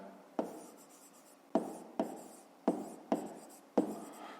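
Pen strokes scratch on paper while working a grade 5 geometry exercise, six short separate scribbles, each a sharp tap trailing into a soft scrape, quiet and close.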